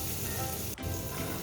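Capsicum sizzles in hot ghee with cumin seeds in a pan over a medium flame, a steady close hiss with a brief dip midway and no talking.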